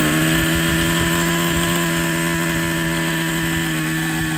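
A Traxxas Nitro Rustler 2.5 nitro RC engine runs steadily at a high, buzzing pitch with the throttle trim set slightly up, loud and close throughout, with no talking.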